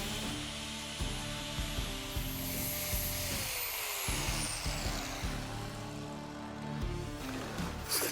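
A flap wheel grinds the edges of a welded metal decorative snowman with a steady high-pitched whine, briefly easing off midway before biting back in, no talking.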